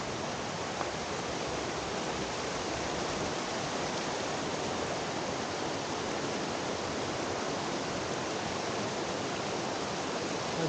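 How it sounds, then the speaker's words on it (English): Creek water rushes steadily along a wooded bank at Curtis Creek in Pisgah National Forest, a dense, even, close-up flow with no break or voices throughout. "That sound never gets old, does it? Rustling waters."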